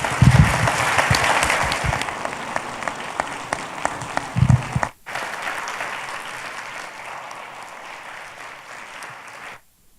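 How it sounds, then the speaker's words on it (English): An audience applauds at the close of a panel discussion on culture, beauty and the Church, a dense, sustained wash of clapping with a few louder claps, briefly cut off then resuming before ending abruptly. "let's give everybody a round of applause"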